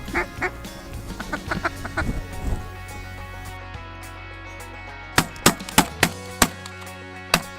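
Ducks quacking in an open Saskatchewan field in early October, drakes and hens together; a run of soft calls at first, then a series of sharp, loud quacks spaced about half a second apart later on, with some chopping-like knocks.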